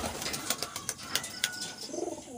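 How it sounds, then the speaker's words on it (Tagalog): Pigeons in a loft coo softly, with low burbling calls, light rustling and a few brief flutters, all fairly faint and close-by with no talking. "gusto ko lang i-video yung mga ibon natin dito sa loft."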